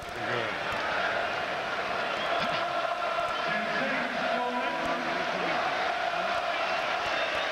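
Capacity crowd roaring at a boxing match in the Manchester Evening News Arena, a dense continuous rumble of cheering under a commentator's steady voice.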